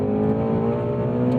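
Engine of a 2018 Ford Mustang Shelby GT350R humming at steady revs from inside the cabin, a loud, harmonic drone held briefly without variation.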